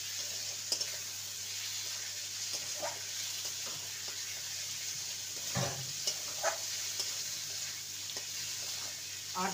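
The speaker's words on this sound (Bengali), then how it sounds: "এবার ভেজে রাখা আলুর টুকরো দেব।" Fried potato pieces tossed into a pan of cooked-down spice masala and stirred, with steady sizzling and the scrape of a spoon against the pan, a louder clatter midway as they go in.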